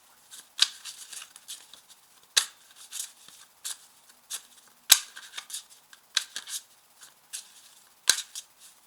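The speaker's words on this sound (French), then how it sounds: "Alors, je coupe. Et je tire une carte." A deck of 32 playing cards is cut and a card drawn, making crisp papery snaps and flicks in an irregular series. The sounds are close and clear over near silence, and no one speaks.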